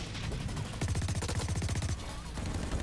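A full-auto machine gun pistol fires in the video game Blacklight Retribution, a rapid, evenly spaced stream of sharp shots in one steady burst, loud and close, with denser firing before and after.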